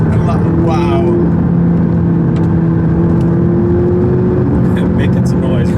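An 840 HP McLaren 12C accelerates with a loud, sustained engine drone and steady rising tone heard from within, with brief speech at the start and end.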